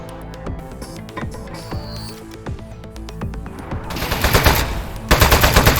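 Rapid automatic turret fire from Aperture Desk Job, starting as scattered clicks and mechanical noises and then breaking into two loud, dense bursts of rattling shots near the end.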